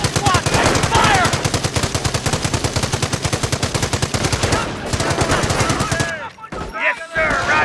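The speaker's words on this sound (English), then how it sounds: "Rifle squad, taking fire!" Rapid sustained machine-gun and rifle fire from a rifle squad in the Company of Heroes war strategy game, loud and relentless, with bursts of other shots and battle noise near the end.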